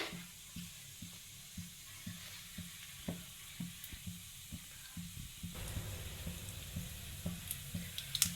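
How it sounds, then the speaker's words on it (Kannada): Cumin seeds crackling and popping in hot oil for a tempering, a faint, close series of small regular pops over a low frying hiss that grows busier toward the end. "ಹಾಗೆಯೇ ಒಂದು ಅರ್ಧ ಟೇಬಲ್ ಸ್ಪೂನಷ್ಟು ಜೀರಿಗೆನ ಕೂಡ ಹಾಕೋಣ. ಇದು ಸ್ವಲ್ಪ ಚಟ್ಪಟ ಅಂತ ಸಿಡಿಲಿ"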